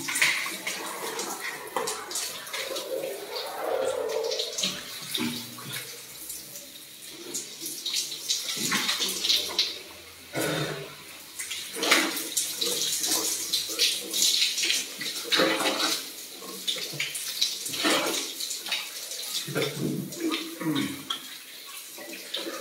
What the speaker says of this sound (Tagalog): Ang daming tubig dito, dahil ang daming shower room sa Cliff Cabanas.